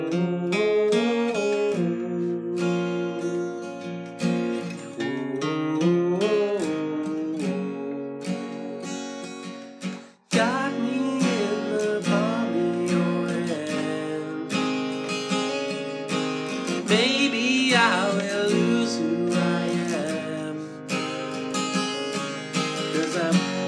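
Acoustic guitar strumming chords for a song, full and steady across the intro and verse, with a brief break near the middle before the strumming resumes, played alone without voice.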